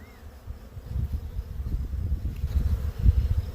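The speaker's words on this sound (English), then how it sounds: "Looks like we have a box full of bees" Dense, steady buzzing of many honey bees close by in an open, queenless hive, a low humming swarm that swells slightly in loudness, with no voices.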